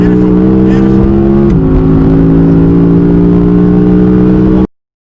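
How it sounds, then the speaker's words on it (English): An Audi quattro accelerates around Goodwood Circuit while sliding on all four wheels, its engine note loud and close, sustained and steady, dipping slightly partway through before cutting off abruptly. "Just easing it on the throttle, sliding on all four wheels."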